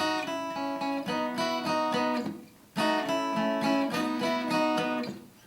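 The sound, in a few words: guitar strummed messily in open G tuning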